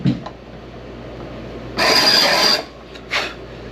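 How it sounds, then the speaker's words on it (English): A manual ring filer working a piston ring for an engine rebuild, two short grinding rasps, the first longer and louder, close by in an otherwise quiet workshop with a faint hum beneath. "Dave brought up his little manual filer, and I'm sitting here filing them"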